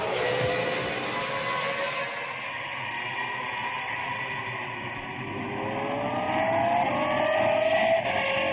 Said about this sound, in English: Up the inside, Mark Webber goes, and that is P11 for him.